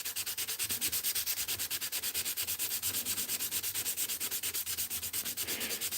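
Rapid, even back-and-forth strokes of 800 grit sandpaper on a custom guitar pick, close and continuous with a regular rasping rhythm.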